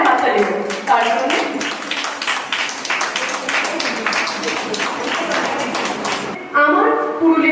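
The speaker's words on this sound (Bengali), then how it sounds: "জোরে একটা হাততালি তার জন্য" An audience at a reality-show prize ceremony claps for a winner called to the stage. The applause is brisk, uneven and moderately loud and carries on for several seconds, with a voice heard near the end.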